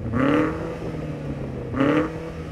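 A sports car with an optional sports exhaust blips its engine twice up to a soft limiter near 5,000 RPM, two short sharp revs cut off abruptly over a steady idle, close by.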